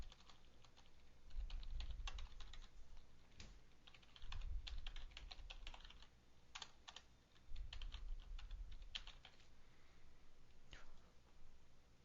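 Fingers type a URL on a computer keyboard in quick bursts of clicky keystrokes, close and fairly quiet, with short pauses between runs of keys.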